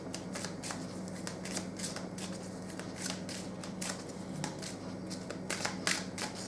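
Tarot cards are shuffled by hand in a quiet room, a series of crisp riffling bursts and soft slaps repeating irregularly, close and fairly faint.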